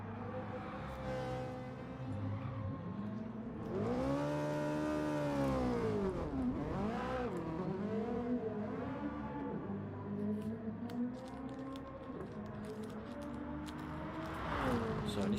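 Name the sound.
race car engine in sim racing video game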